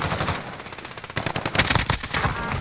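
Automatic gunfire in Call of Duty Modern Warfare rattles in loud, rapid bursts, first a dense stream and then sharper volleys after a brief lull, close and punchy, with no talk over it.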